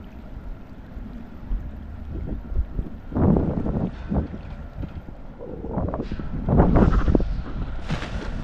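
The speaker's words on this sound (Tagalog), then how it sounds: "Ay, lakas ng hangin, binabalik niya." Strong sea wind buffets the microphone in an open coastal spot, a steady low rumble with louder gusts swelling around the middle and again near the end, with no clear talk.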